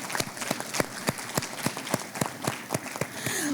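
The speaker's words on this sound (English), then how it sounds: "you guys need to applaud yourselves for getting your certification" Awards banquet students applauding themselves: a sparse, slow clap of roughly a dozen distinct claps at an uneven rhythm, fairly close and moderately loud, with faint room noise between.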